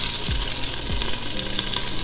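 Garlic frying in oil in a pot for collard greens gives a steady, loud broadband sizzle. Two low thumps from a stirring utensil sound partway through, and no one speaks.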